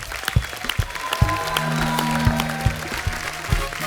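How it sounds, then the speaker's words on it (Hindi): Applause from a small studio audience on a comedy talk show stage, scattered claps building into steady clapping, with some tonal background sound underneath. "जोरदार तालियां होनी चाहिए"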